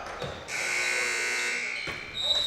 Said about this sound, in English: forced to dash that one up at the shot clock buzzer